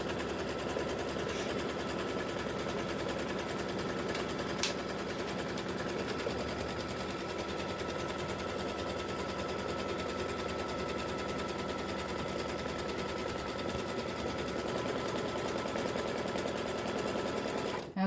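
An embroidery machine stitches an in-the-hoop mug rug with a steady, even mechanical whir and rapid needle rhythm that holds at the same level throughout, with one brief click partway through.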